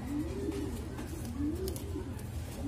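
Racing pigeons of a Dubai line, kept by a breeder, coo in soft, low rolling calls close by, with two clear cooing phrases over a steady background hum.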